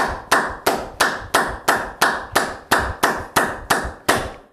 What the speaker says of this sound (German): Und dann klatschen deine Hände, dann clap your hands.